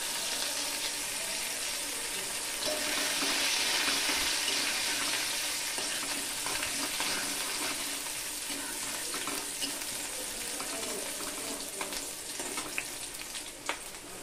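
Chopped onion and green chili fry in a pan for a breakfast dish of boiled eggs and flattened rice, a continuous soft sizzle with occasional stirring clicks close by.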